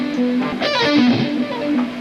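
Single notes from a guitar solo, picked and sliding with a distorted electric tone, a short close phrase with no talking.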